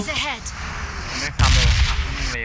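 Gunfire in PUBG Mobile, loud bursts in the foreground that swell sharply partway through, mixed with chatter from players speaking over the shots.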